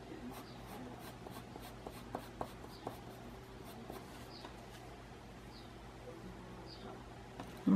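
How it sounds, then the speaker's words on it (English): Graphite pencil scratches softly across paper while drawing a double zinnia, with faint irregular strokes and taps in a quiet room. "Let me do a little regular pencil and see what happens here."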